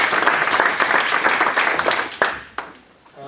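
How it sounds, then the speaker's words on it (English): Audience applause after a technical talk on AngularJS modularization, a burst of clapping from a modest room crowd that thins out and fades away over a few seconds. "Applause."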